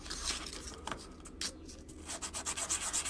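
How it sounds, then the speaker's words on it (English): Dremel rotary tool grinding the engraved face of a metal challenge coin, a steady close abrasive whir with short scratchy pulses, heard alone. "Okay, so back to the Dremel."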